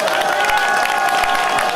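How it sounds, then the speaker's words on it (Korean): A crowd at a Korean political party launch press conference gives a loud, continuous burst of applause mixed with crowd noise, steady and close throughout. "그건 또 박수를 또 적게 치네"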